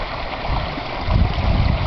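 Rainwater runoff rushing as whitewater along Hunter Road in November, a close, steady churning gush that swells louder partway through, with no voices.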